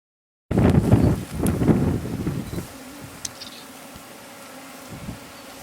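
Bees around their hives hum in a loud, dense swarm that gradually thins to a quieter, steady drone, with wind rushing at the microphone.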